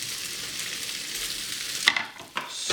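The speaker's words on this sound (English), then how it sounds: "So I'm going to add my garlic along with my tomatoes," Garlic and tomatoes fry with gnocchi in a pan, giving a steady close sizzle that breaks into a few brief stirring scrapes near the end.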